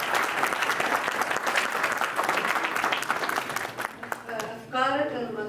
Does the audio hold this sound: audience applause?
yes